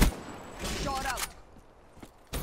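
Gunfire in Call of Duty: Black Ops III, a quick cluster of shots and mechanical clatter at the start, a brief voice, then a final loud shot near the end.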